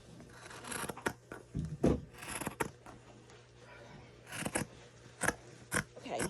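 Scissors snip through fabric being cut out for car seat covers, a run of short crisp cuts with uneven gaps between them, close by and moderately loud, with no talking.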